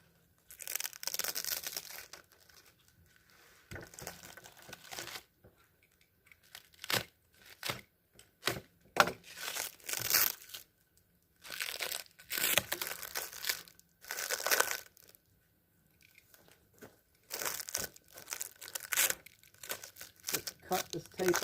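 Packing tape is cut and torn away from a stack of plywood pieces at an ammunition test, giving bursts of crinkling and ripping separated by short pauses.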